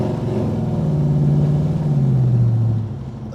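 A 1964 Pontiac GTO's engine rumbles loud and close as it accelerates, its pitch rising steadily and then easing off near the end, with no voices.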